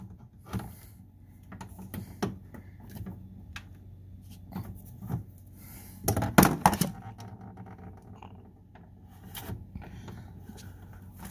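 A Samsung refrigerator water filter is twisted counterclockwise to remove it, giving scattered plastic clicks and soft thunks with a brief rattling burst near the middle, close and fairly quiet.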